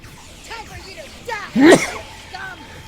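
A single sharp sneeze bursts out in the middle of game dialogue in a military mission, loud and brief, with voices talking before and after it.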